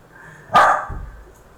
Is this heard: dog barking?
yes